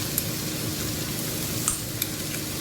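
Crushed peanuts, pounded in a mortar, are stirred into a Konkani vegetable dish in a pan, giving a continuous close sizzle with soft scraping and occasional light utensil taps.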